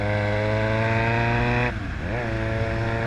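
Yamaha XJ6 motorcycle engine idling with a steady rough buzz on a cold night in a small town, then a quick blip of the throttle that rises and settles back, loud and close.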